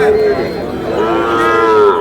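Young Sahiwal calves at a cattle market give a loud, close, drawn-out moo that rises and falls over about two seconds.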